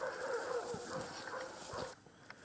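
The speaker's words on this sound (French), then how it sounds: "Seuls les aboiements de chiens au loin se font entendre." Dogs bark somewhere far off during a halt on a soldiers' patrol: muffled, faint barks drift over a steady hiss of outdoor background noise, and then it suddenly quiets. There is no talking.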